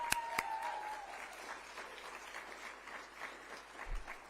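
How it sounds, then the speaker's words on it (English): An audience at a RootsCamp 2025 welcome plenary session breaks into sustained applause, a dense wash of clapping heard from a distance that stays even throughout, with a brief sharp tone near the start. "Applause for you and the lives you lead."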